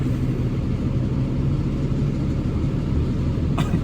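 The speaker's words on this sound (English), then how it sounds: "I think maybe like a second or third gen Camaro just drove by us" A second or third generation Chevrolet Camaro rumbles past, its engine a steady low drone held at even loudness throughout, with a faint hiss rising near the end.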